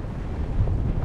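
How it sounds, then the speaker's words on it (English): Strong wind buffets the microphone with a loud, steady low rumble that swells briefly midway, with no voices, on the mountain Wetherlam. "it's like super windy now"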